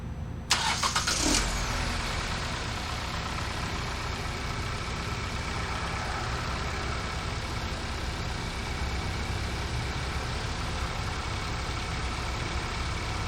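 A 2018 Hyundai Tucson engine cranks and catches with a short burst, then settles into a steady, even idle that runs on alone at close range.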